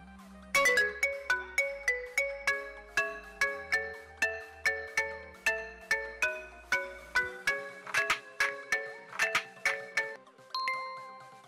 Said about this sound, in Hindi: सो आप लोग देख सकते हैं कि रिंगटोन चेंज हो गया है।